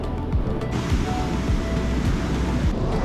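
Surf rolls onto a Florida Atlantic beach with a steady broad wash of breaking waves, buffeted by wind rumble on the microphone and heard up close, with no talking.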